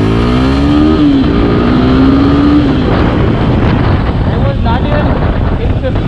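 A Suzuki Gixxer SF 250 motorcycle engine revs in first gear as the throttle opens, a rising whine climbing in pitch then dropping, loud and close over steady mechanical rumble.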